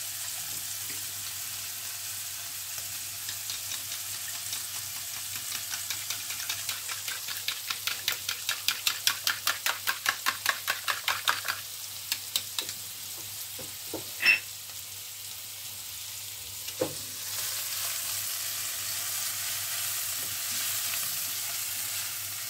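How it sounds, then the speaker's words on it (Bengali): Fish frying in a pan for a snack: a steady close sizzle, with a rapid rhythmic tapping passage in the middle and a couple of sharp clinks, no voices. "মাছগুলো খুব ভালো করে ভাজা হয়ে গেছে।"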